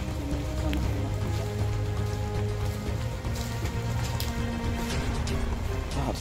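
Steady rain patters down continuously, a dense wash of drops on a surface with low background rumble, no voices.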